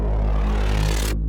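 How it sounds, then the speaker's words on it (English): A Reese bass synth patch built in Serum with an automated filter, a thick, sustained low growl that fills the frame loudly and steadily, its upper buzz cutting off abruptly near the end. "This is a Reese bass I made in Serum before."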